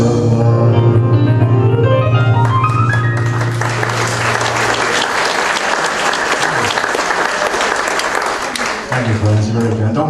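Audience applause at a 1940s-style show in a concert hall, loud sustained clapping that swells as the final sung note and music fade, then continues under someone speaking.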